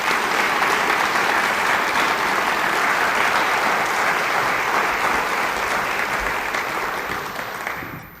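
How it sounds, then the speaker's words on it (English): A community awards ceremony audience claps for the honorees in a full, even round of applause that holds steady and then tapers off near the end, with no voices on top. "Let's give the awardees one more round of applause for their award."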